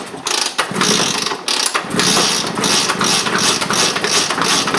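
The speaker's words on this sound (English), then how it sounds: "Next, we got the 1981 Vespa. Let's see if I can get her started." A 1981 Vespa scooter engine is cranked with a few rough mechanical turns, then catches into a loud, continuous buzzing run that holds close by for the rest of the moment, with no talking.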